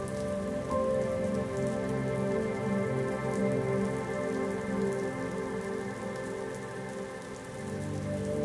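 Rain falls in a steady patter, with a sustained tonal hum running beneath it throughout, holding at an even level with no voices.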